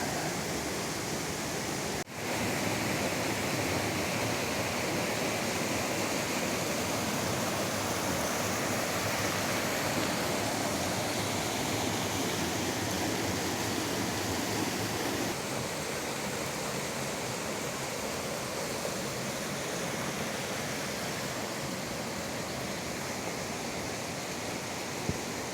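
The Xurbeo waterfall on the Río Negro, swollen with water, roars as a loud, steady broadband rush that continues unbroken for the whole stretch with no voices.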